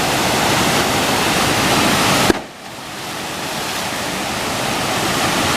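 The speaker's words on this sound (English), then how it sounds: "This water is moving very fast." Fast-moving river water rushing toward rapids above a waterfall, a loud, steady broadband roar that dips briefly near the middle before building back up.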